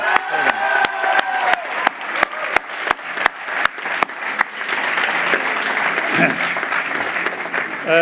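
A bachelor graduation ceremony crowd claps in loud, evenly spaced unison beats, then breaks into a dense roar of applause mixed with cheering and shouts.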